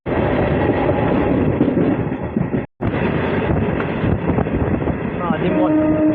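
A MEMU local train running between Azimganj and Rampurhat, heard from inside as a loud, steady rumble and rattle of wheels on track, with a brief near-silent dropout partway through and faint tonal whines near the end.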